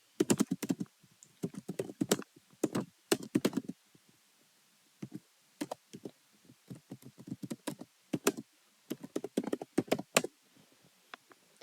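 A question is typed on a computer keyboard in quick, uneven bursts of crisp key taps with short pauses between words, close and fairly quiet.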